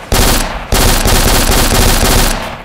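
Sustained, loud automatic gunfire from a shooter game, Nazran Foundry mission, rattling almost continuously in two long bursts with a short break between them.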